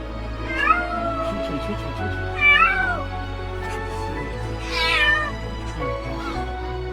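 A cat meows three times, each cry rising and falling, spaced a couple of seconds apart over a steady musical background.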